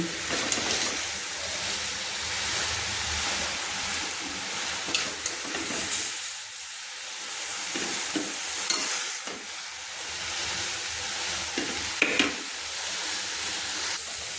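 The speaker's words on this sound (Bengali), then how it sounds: "একটা চামচ দিয়ে বাঁধাকপিটাকে তুলে নিচ্ছি" Steamed cabbage is stirred and lifted with a spoon in a dry wok, a soft crackling frizzle with scraping and occasional spoon clinks against the metal, fairly quiet and continuous.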